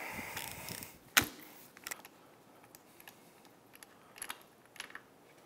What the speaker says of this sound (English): let's pull the plugs and see what they look like